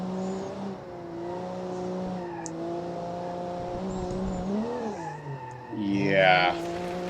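A car built in Automation drives a track in BeamNG, its engine droning close with rising and falling revs through gear changes, ending in a sharp rev and a short tire squeal on a turn.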